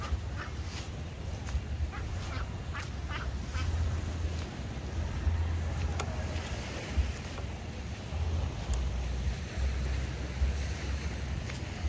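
Waves wash against the beach at Calaca, Batangas, a steady low surf rumble with occasional distant knocks and faint background activity, with no clear speech.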